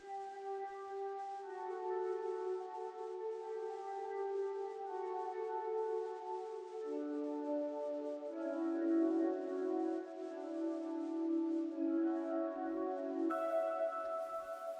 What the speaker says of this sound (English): And for the effects, we got the ambient echoes.